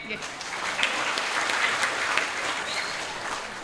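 An audience claps throughout at a Balinese drama performance at an arts festival, a dense, even wash of applause from a crowd.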